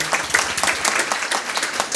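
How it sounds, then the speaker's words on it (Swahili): Audience applause rings out at a service launch event with Huduma Kenya, dense steady clapping from many hands filling the whole moment. "Makofi kwa Kism."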